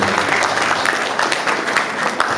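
Applause from an audience at a Ghanaian Fontomfrom awards ceremony in 2019, a steady dense patter of clapping that fills the short span at an even level, with no speech over it.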